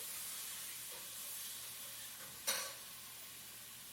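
Garlic dropped into melted butter in a pan gives a steady, soft sizzle, with a brief sharper hiss burst midway as it hits the hot fat.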